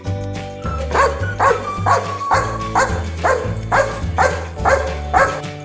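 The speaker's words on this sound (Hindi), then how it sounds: "बच्चों, ये है डॉग। डॉग को हिंदी में कहते हैं कुत्ता।" A dog barks loudly and repeatedly in a steady rhythm, about seven sharp barks close to the listener with no voices present.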